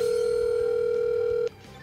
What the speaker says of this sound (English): Okay, the phone rang twice.